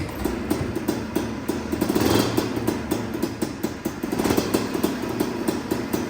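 A 45-year-old Honda PA50II Hobbit moped engine runs steadily just after starting, a near, continuous small-engine putter with rhythmic clatter and slight rises in revs, heard alone.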